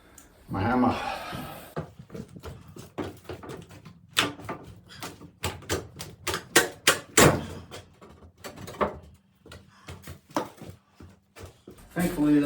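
Hammer blows knocking old wooden balusters loose in an 1800s Carolina farmhouse during demolition salvage, a run of sharp irregular knocks and clatters, some loud and close, with someone talking at the start.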